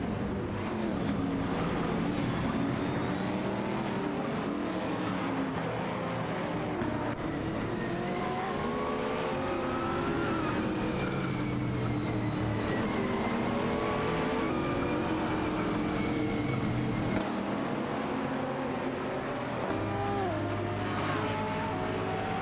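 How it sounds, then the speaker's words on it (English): Race cars in a video game, among them an Aston Martin DBR9 and a Lamborghini Gallardo, roar continuously with layered high-revving engines rising and falling through gear changes, loud and dense throughout with no pauses. "Bobardo, and Huskies, in a fierce battle for 7th with Aston Martin DBRSNA, against Lamborghini Gallardo"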